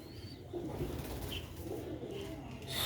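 Old-breed Nooruddin pigeons keep up a soft, rolling coo, low and continuous without any voices, rising slightly toward the end amid faint background chirps.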